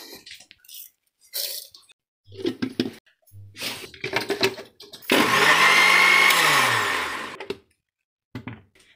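A blender whirs loudly for about two and a half seconds, mixing a banana shake with milk and sugar, with scattered clatter and kitchen handling noises before and after.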